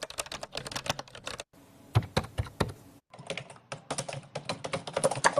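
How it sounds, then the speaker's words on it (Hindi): Keyboard typing sound effect previewed in a video editor: dense bursts of rapid key clicks, close and crisp, in three short takes separated by brief gaps, with no talking. "keyboard typing 3, this I want to use"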